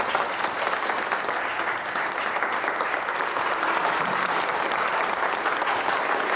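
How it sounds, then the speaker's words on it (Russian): A theatre audience breaks into dense, continuous applause that stays loud and even throughout, with no voices over it. "Под ваши аплодисменты."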